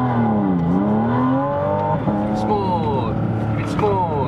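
A Porsche race car on track, its engine revving and accelerating loudly in rising and falling sweeps, with an instructor's voice speaking over it throughout.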